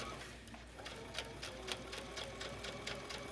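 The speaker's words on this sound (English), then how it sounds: "I'm going to stitch all the way down to the mark that I made." A sewing machine stitches an invisible zipper onto a garment. It gives a steady, fast mechanical whir with regular needle ticks, close and continuous, with no one talking.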